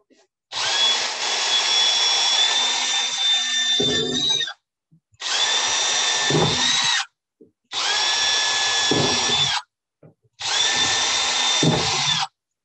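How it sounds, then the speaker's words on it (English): A power drill runs in four long bursts, each a few seconds long, with short pauses between, drilling holes in a compost bin. It whines loudly and steadily up close with no talking. "with the smaller drill bit"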